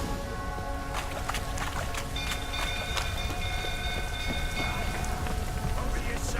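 Steady rain falls in The Witcher III: Wild Hunt outside a burning stable, a dense continuous hiss with scattered drop ticks, joined by faint tonal game sounds and background noise throughout.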